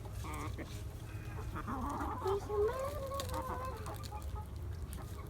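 Chickens cluck and chatter at feeding time, a cluster of soft close calls with a few louder squawks rising mid-clip over a steady outdoor background, no talking.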